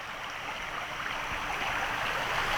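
Frog Creek flowing strongly at night, a steady, dense rush of water close by and even in level throughout, with no voices.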